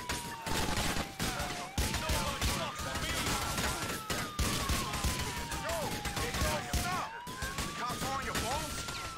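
An AA-12 automatic shotgun fires in GTA IV, letting off rapid bursts of repeated blasts broken by brief pauses while a police siren wails steadily in the background.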